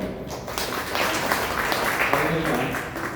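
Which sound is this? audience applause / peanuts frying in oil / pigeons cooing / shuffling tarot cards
audience applause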